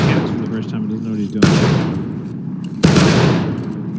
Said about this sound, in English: as we keep firing, we have a constant rate of fire going down at them